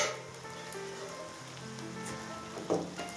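Carrots, stewed until soft, tipped into a hot pan while making baked rice with mushrooms and apples, giving a steady close sizzle and frying crackle with a slightly louder burst near the end, no talking.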